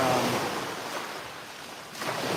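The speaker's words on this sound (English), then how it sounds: "you can see the waves starting to crash in" Waves stirred up by passing boat traffic wash in along a fishing shore, a soft continuous surf rush with wind noise, fairly faint and unbroken, rising slightly at the end.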